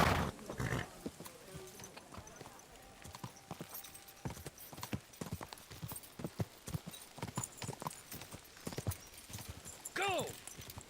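Horse hooves clip-clopping in the medieval game Kingdom Come: Deliverance 2, a steady rhythmic patter of moderate loudness under music and occasional talk, with a brief whinny near the end.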